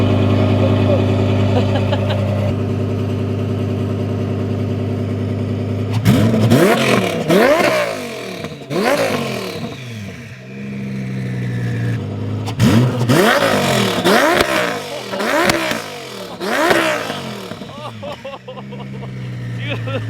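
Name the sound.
1300HP Audi R8 turbo engine revving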